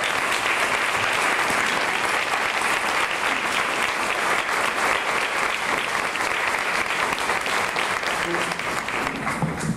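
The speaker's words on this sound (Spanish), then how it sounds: "Pónganse de pie los de la policía para darle un fuerte aplauso a todos ustedes" Sustained applause from a large audience at a commemoration ceremony, a dense, even roar of clapping at steady volume for nearly ten seconds, with faint voices mixed in near the end.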